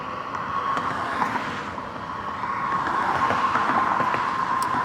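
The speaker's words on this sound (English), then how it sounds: "You hear the tires from the cars." Car tires hiss steadily on a road with passing traffic in the afternoon, heard from an e-bike ride as a continuous broadband roar with faint wind buffeting, growing slightly louder toward the end.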